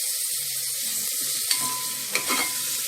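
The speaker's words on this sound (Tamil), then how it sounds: "இப்போ இது கூட நாம் நறுக்கி வச்சுருக்க தக்காளி ஆட் பண்ணிக்கலாம்." Tomatoes sautéing in a pan with ginger and garlic for a millet khichadi, giving a steady close sizzle with a few sharp stirring scrapes and clicks near the end, no voices.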